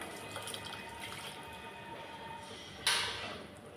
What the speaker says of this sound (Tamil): இப்போ நம்ம பட்டாணி வேக வச்ச தண்ணியையும் இது கூடவே சேர்த்துடலாம்